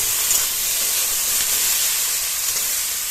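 Eggplant frying in a pan while methi greens are cooked, giving a steady, close hiss and sizzle of hot oil that runs without a break and with no talk.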